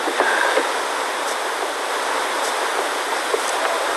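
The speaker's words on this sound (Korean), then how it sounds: "물이 정말 어마어마하게 쏟아져요" A waterfall in the Philippines pours down with massive force, a dense, steady roar of rushing water close by, constant and loud throughout without a break.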